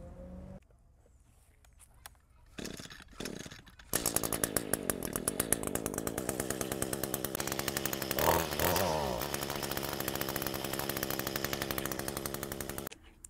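An Echo chainsaw with a low-power, won't-rev fault starts with a few sputters, then runs loudly and close in a buzzing, pulsing drone that rises briefly in a rev before settling and cutting off.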